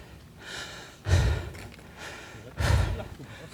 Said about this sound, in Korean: 숨찹니다.